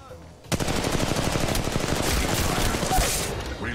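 Sustained rapid automatic gunfire in the mobile video game Apex Legends Mobile, loud and continuous bursts of shots with no pause, close and dense throughout.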